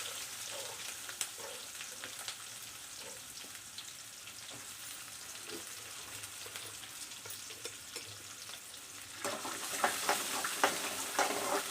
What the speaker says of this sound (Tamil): வெங்காயம் நல்லா வணக்கிக்கலாம்